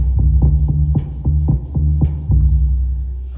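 Drum machine loop with its pattern shortened using active step, giving a quicker, polyrhythmic repetition of thumping low kicks over a continuous droning hum; loud and steady with no talking.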